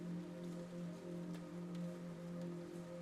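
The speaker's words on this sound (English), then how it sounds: "let the rain fall on your eyelids, your cheeks, your lips" Steady rain falls in a dense, even hiss during a peaceful storm, with a soft sustained low drone running beneath it and no voices.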